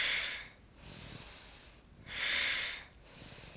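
Slow, deep inhalations during a seated yoga twist, two long airy breaths swelling and fading in rhythm, close and fairly quiet, no talking.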